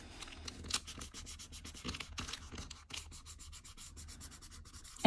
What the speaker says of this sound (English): just give it a real good rubbing. And you can just use your fingers for this.